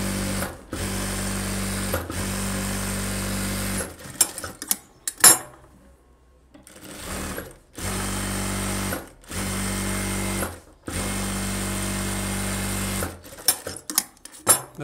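Sewing machine stitching the back piece of a blouse, running in several steady bursts of a few seconds each, separated by short stops and handling noises, close and loud.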